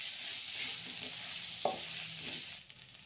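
Sliced basil leaves sautéed briefly in a pan for a rice-burger filling, a steady soft sizzle running throughout with a single scrape of a spatula partway, and the sizzle easing near the end, no talking.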